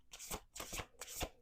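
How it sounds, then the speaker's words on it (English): A quick riffle shuffle of playing cards, close up, with a few fast fluttering bursts of card flicks. "We're doing 2 more shuffles."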